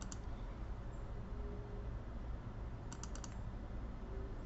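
Quiet keyboard typing on a computer, used to write an SMS on a phone mirrored to the screen, with a few faint clicky keystroke bursts over a soft steady background hiss.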